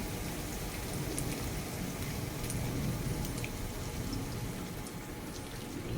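Beaten egg and eggplant mixture for a Filipino tortang talong poured into a hot pan, giving a steady, close sizzle and crackle that holds evenly throughout with no talk.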